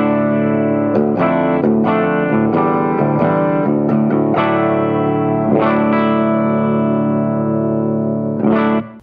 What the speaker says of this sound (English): it's not the most glorious clean sound in the world because you're not getting any preamp flavor with it